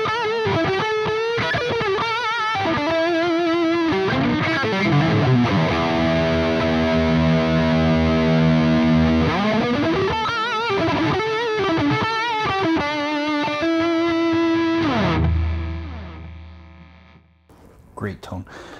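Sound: Donner DST-400 electric guitar, bridge single coil, distortion

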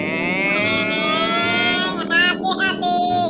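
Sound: motorcycle engine racing in a video game

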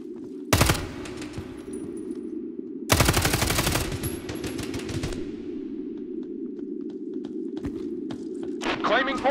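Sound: covering gunfire in the video game Hired Ops

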